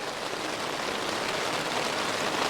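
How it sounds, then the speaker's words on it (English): Steady, dense patter of rain drumming on a tent surface at night in the Mourne Mountains, constant and close, with no voices. "There's nothing nicer than being in a tent at night"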